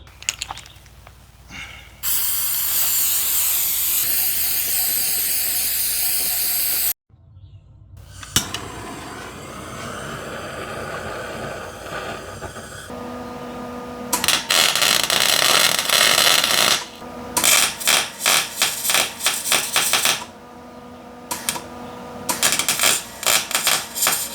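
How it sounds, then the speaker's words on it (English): Welding on the spider gears of a Mustang differential, heard up close as a long steady crackle, a pause, then rougher buzzing and a run of short stuttering bursts, with no talking. "I welded the spider gears together, and then I welded the outside spider gears to the carrier"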